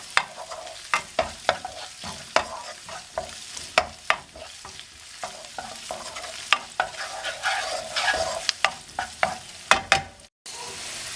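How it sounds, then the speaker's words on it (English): Bacon with a little red pepper stirred as it fries in a pan: a constant close sizzle broken by regular sharp scraping strokes of a utensil against the pan, roughly one every second, with no voices. "Stir everything together and allow them to continue cooking."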